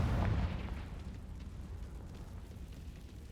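A Confringo fire spell blast in the video game Hogwarts Legacy, a single loud booming burst at the start that decays into a long rumbling roar.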